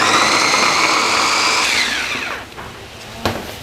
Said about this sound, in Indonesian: kalau mau giling cepat kayak gini harus pakai food processor